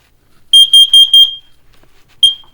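A smoke alarm under test gives four rapid high-pitched electronic beeps, then one more after a short pause, loud and close in an otherwise quiet room.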